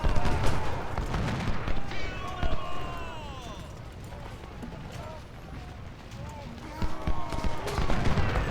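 Gunfire in Ultimate General: Civil War at First Bull Run, scattered musket volleys and popping shots crackling irregularly, with rumbling battle ambience and someone speaking over it.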